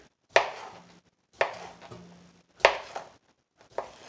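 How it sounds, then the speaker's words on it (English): A knife slices through sausage on a cutting board with four distinct, crisp chopping strikes spaced about a second apart, close and fairly loud, with quiet gaps between and no talking. "this is how I cut mine up. I do this, then I make a slit here"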